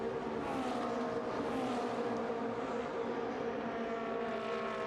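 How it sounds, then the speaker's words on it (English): Race car engines at the Mugello circuit during a Trofeo Pirelli race, a steady distant roar of several cars with shifting pitch, continuous and moderately faint. "Florian Merckx is now leaving Alexei Baysov in his wake"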